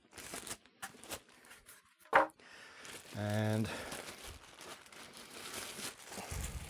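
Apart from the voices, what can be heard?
polystyrene packaging being removed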